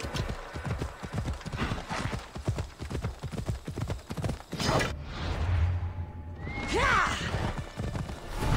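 A horse in Assassin's Creed Odyssey gallops with a rapid, steady clip-clop of hooves that holds for several seconds, then gives way to a brief whinny and the jingle of tack, loud and close.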